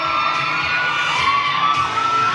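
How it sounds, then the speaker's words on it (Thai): An audience at a film press event cheers and whoops loudly, a continuous crowd roar with high shouted tones held across the whole moment. "ขอเสียงปรบมือด้วยครับ"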